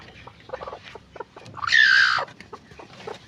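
A hen gives a loud, drawn-out cluck close by, with softer clucks and faint rustling before and after.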